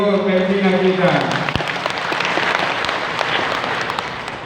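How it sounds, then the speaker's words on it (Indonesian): A crowd at a religious women's gathering in Maluku breaks into loud, sustained applause, dense clapping that follows a voice and then carries on steadily, fading slightly at the end. "Berikan aplaus kepada Ibu pembina kita."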